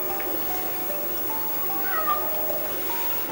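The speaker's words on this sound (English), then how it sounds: "there's a cat stuck behind there" A cat trapped behind a chimney meows in short, muffled calls that are faint under a steady background hiss.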